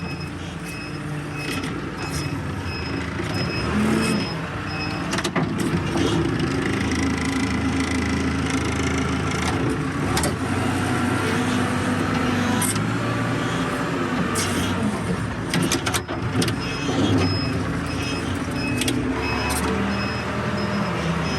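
A machine engine runs at a steady mid-pitched idle and rumble while being turned around beside a huge dead tree being felled, continuous and fairly close, with scattered knocks and clatter.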